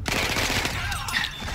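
Gunfire in Battlefield 1 bursts out as a dense, rattling fusillade of rapid shots, loud and continuous, with a brief tonal sweep in the middle of the mix.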